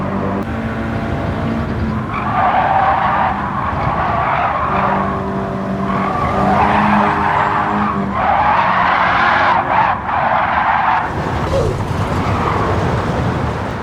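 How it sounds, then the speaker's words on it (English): Race car tires screech continuously through a long slide in Gran Turismo 7 at the Trial Mountain circuit, a loud sustained squeal layered over a droning engine, with a brief break and renewed squealing near the end. "It's easy to start a slide, but sometimes really difficult to get out of it."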